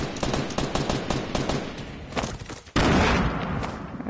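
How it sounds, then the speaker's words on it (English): Gunfire from a video game weapon, rapid automatic bursts rattling in quick succession, then a short lull before a louder, denser volley, close and alone without talk. "That's what my gun sound like."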